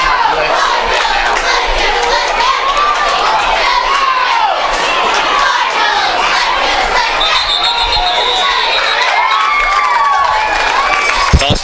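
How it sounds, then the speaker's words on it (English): Cardinal fans in the stands at a Corbin vs South Laurel high school football game cheer, shout and clap continuously, a dense crowd roar with scattered voices rising and falling. "you got Cardinal fans down here clapping"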